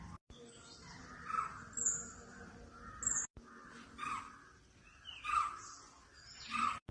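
On a morning among hills in Kerala, crows caw in repeated bursts while smaller birds chirp around them. The calls come faint to moderate and slightly distant over a quiet, breezy background.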